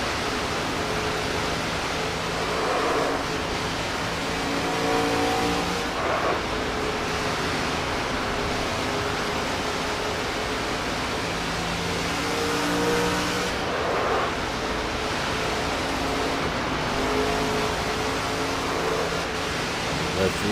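A NASCAR 25 ARCA race car engine roars steadily through a hot lap at Bristol, a continuous loud drone with slight rises and falls in pitch as it accelerates and eases through the turns.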